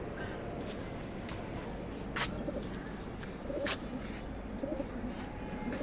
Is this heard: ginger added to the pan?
no